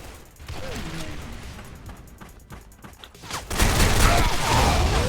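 Gunfire in the online shooter Special Force 2, a burst of rapid shots with clattering mechanical noise and a louder crashing volley near the end, under excited voices.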